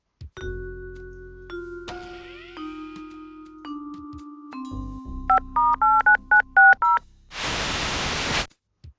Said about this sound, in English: first things first, we're gonna go call Regan